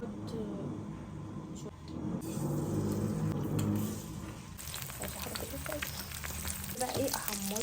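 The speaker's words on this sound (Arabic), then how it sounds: "احمره واقلبه على وشه، عشان انا بحب اكل بيض العيون" Sunny-side-up eggs frying in a pan, a soft crackling sizzle that rises and falls, joined by clattering kitchen noise, with a voice talking over it.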